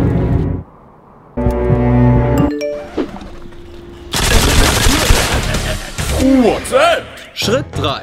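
Bursts of gunfire in a shooting-training scene, loud rapid volleys like a fusillade with metallic clinks and dings between the salvos, alongside speech and other action-scene sounds.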